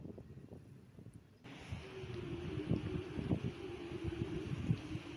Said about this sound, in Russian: ветер гуляет по этим кормам. Такой прям это гул.